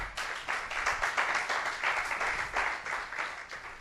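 A church congregation claps together in fairly quick rhythmic bursts, moderately distant and soft, an even pulse of group clapping with no talking.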